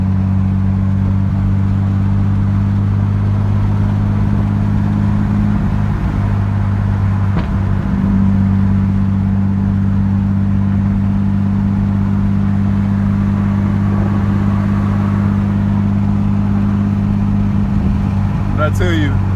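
A tuned Nissan Skyline R33 being driven in Korea, held to low RPM and kept out of boost, gives a steady, loud, low engine drone with a constant hum that barely changes.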